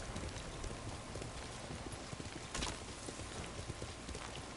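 Horse hooves clip-clop steadily while riding in Ghost of Tsushima, a continuous close gallop rhythm blended with a rain-like hiss across the whole stretch, with no talking.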